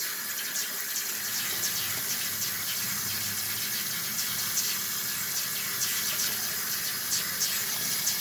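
Tap water gushes steadily into a cooking pot to cover dried New Mexico red chile pods, a continuous close splashing fill with no talking.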